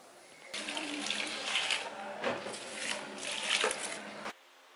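Water gushes from a household tap into a sink, starting abruptly, splashing and running steadily for several seconds with shifting pitch, then cutting off sharply at the end.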